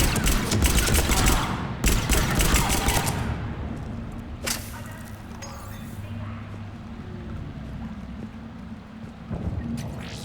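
Bursts of sci-fi weapon fire in Mass Effect 3 open the scene, with dense rapid shots in the first few seconds. Scattered sharp cracks and impacts follow over a lingering rumble, and fainter shots trail off toward the end.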